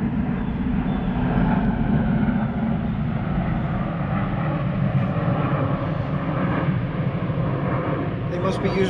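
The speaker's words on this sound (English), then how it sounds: "There's a jet coming over right now." A jet flying low overhead on approach to a nearby runway above a park, a loud continuous rumble that holds steady throughout, with faint voices in the background.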